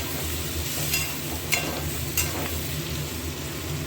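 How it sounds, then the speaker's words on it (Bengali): Tomatoes and potatoes sauté with spices in a pan, making a soft, continuous sizzle broken by a few sharp clinks of a stirring spoon. "সব মশলাগুলোর সঙ্গে টমেটো আলু ভাজা ভাজাই হোক আর একটু কষানো হোক"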